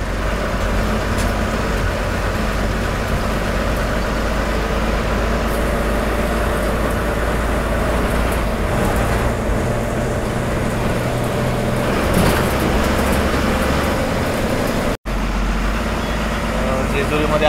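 From inside a crowded Maharashtra state transport bus on the route to Jejuri, a steady low engine drone and road rumble carry on throughout, with a brief dropout near the end.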